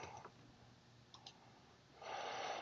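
A few soft, isolated key taps sound on a computer keyboard in a quiet office setting, faint and sparse, followed by a brief burst of low hiss near the end.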